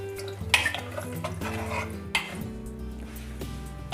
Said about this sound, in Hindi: और एक बार इसे हम अच्छे से मिक्स कर देंगे।